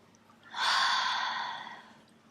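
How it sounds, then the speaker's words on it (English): A single deep breath drawn during a yoga session, a long airy inhale lasting about two seconds, close and clear, rising quickly and then slowly fading, with no talking over it. "Give yourself a good deep breath."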